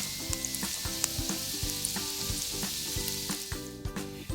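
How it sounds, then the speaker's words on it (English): Onions sauté in melting bacon grease in a hot pan, a close, loud, continuous sizzle with crackling pops and the occasional scrape of stirring. "That's what we're sauteing our onions in."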